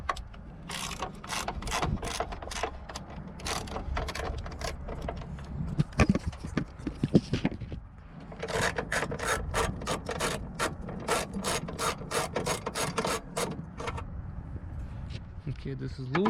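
A socket wrench ratchets in bursts of quick clicks, loosening the nuts on a Subaru Crosstrek battery, with a short pause midway and metallic rubbing between runs, close up.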